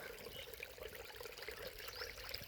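Irrigation water flows steadily on a farm planted with bananas, a faint, continuous trickling and gurgling stream running alone without voices.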